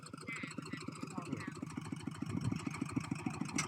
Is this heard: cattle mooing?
no